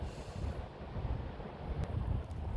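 Wind outdoors buffeting the microphone in a steady, loud low roar with gusty swells across the whole stretch.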